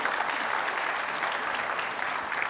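A studio audience at a televised Jakarta gubernatorial election debate applauds the two candidates, a steady, dense wash of clapping that holds at an even level throughout, close and loud, with no clear voices over it.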